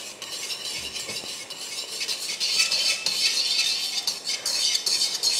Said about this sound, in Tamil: கொஞ்சம் கொஞ்சமாக போட்டு கிளறிக்கோங்க